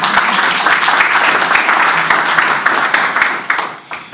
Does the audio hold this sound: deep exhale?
no